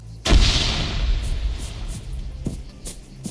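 A heavy gunshot in the video game Arma 3 booms loudly, then its echo rolls away, followed by a few fainter distant shots.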